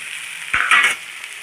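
Goat meat (mutton) being stirred in a pan with onions and spices, a close, bright frying sizzle that rises briefly into a louder scraping hiss as the pan is stirred, then settles back; no voices.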